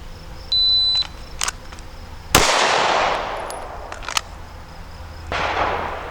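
A single sharp gunshot from target shooting cracks close and loud, its report decaying over about a second, with a few fainter clicks and taps before and another softer burst near the end; no talking.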